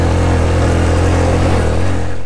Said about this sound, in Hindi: वो एक भाई आगे पाँव से बाइक को चढ़ा रहे हैं